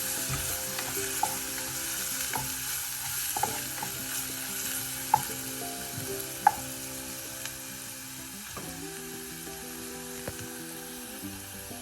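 Turmeric powder sautéing in oil with chicken liver, a steady loud sizzle with intermittent spatula clinks and scrapes against the pan, no speech.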